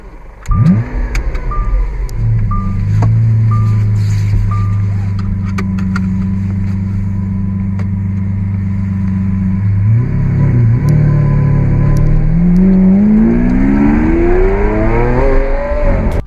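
A Lamborghini Aventador SV Roadster's 6.5-liter V12 in the Need for Speed racing game, starting up with a sharp bark, then holding a steady loud drone before revving higher in a rising sweep near the end.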